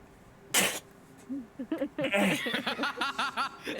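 A person gives a sudden sharp cough followed by a run of short, raspy, choked hacking bursts, close and fairly loud, with a voice mixed in; the coughing resembles a cat hacking.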